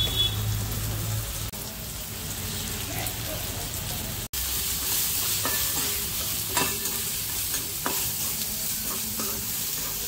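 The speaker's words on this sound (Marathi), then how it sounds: "चांगला मसाला परतून घेऊया तेलामध्ये।" Spice masala with turmeric and salt frying in oil over softened tomato makes a loud, continuous sizzle and crackle, with stirring scrapes and a brief sharp knock partway through; no talking.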